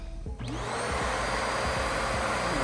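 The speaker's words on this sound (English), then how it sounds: "let me turn on the vacuum so that you can see what the HEPA filter does" Vacuum cleaner fitted with a HEPA filter switching on and then running steadily, a loud, continuous motor whine and airflow rush that holds from start-up to the end.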